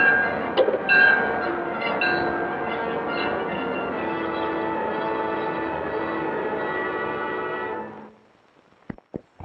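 An electric passenger train, the Clipper, speeds along the railroad under electrical power in a 1942 film. A steady, dense rumble and roar holds for about eight seconds, then cuts off, leaving a few faint clicks.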